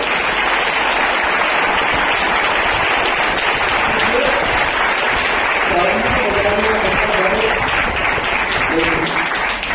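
Loud, sustained applause from an oratory award ceremony audience fills the room without a break, with a few voices mixed in partway through.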